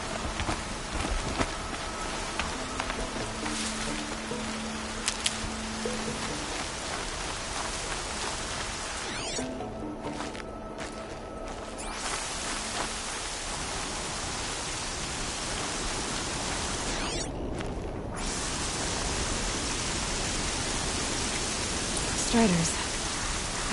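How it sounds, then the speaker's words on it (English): Steady, even rain hiss in the game Horizon Zero Dawn fills the whole stretch, a constant broadband wash with a few brief dips, and no voices over it. "Here comes the rain."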